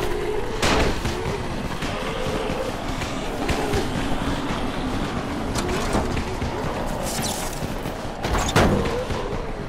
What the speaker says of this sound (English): Just throw some into the crowd.